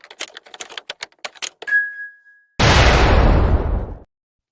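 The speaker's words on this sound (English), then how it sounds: "I forgot to warn y'all of the explosion again" A typewriter's rapid key clacks and a ding bell come first, followed by a sudden, loud explosion that roars and then fades away.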